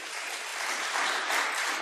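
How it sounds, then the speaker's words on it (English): Audience applause at an open seminar on circular and sustainable plastics, a steady dense wash of clapping filling the room, close and fairly loud for the short stretch with no talk over it. "thank you for the applause also"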